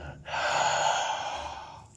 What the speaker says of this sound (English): Stay with the deep breathing.